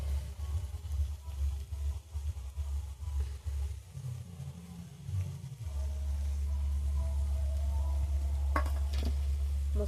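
Ground spices being stirred by hand into salted raw green mango pickle, oil-free, in a bowl: a steady scraping, rustling mix, close, over a constant low hum.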